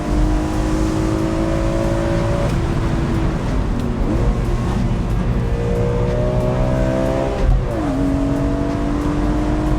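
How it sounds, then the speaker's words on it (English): A BMW E46 M3 convertible's S54 engine with an Eventuri intake drones steadily under open-road wind noise with the roof down, pitch climbing through gears with two clear shift drops, loud and continuous throughout. "Roof down, you've got the S54 singing behind you."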